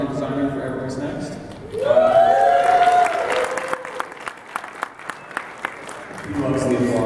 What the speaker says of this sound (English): He loves the applause.